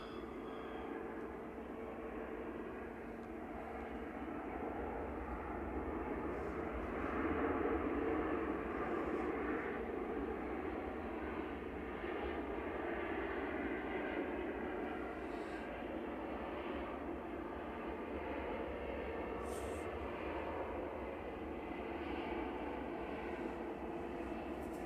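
A plane at Manchester Airport gives a steady, moderately loud broadband engine roar that holds for the whole stretch and swells slightly partway through, with no talk over it.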